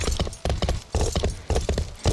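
Horses in the medieval video game Life is Feudal clip-clop in close, distinct bursts of hoof strikes, several rhythmic clusters of hard knocks separated by short gaps, loud and near.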